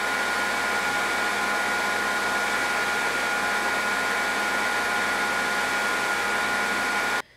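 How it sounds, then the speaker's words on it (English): A grinder chamfers the cavity edges of a steel forge press die, a loud continuous high whine and rush that holds steady for several seconds before cutting off abruptly. "Now I'll put a chamfer on each of the edges of these cavities."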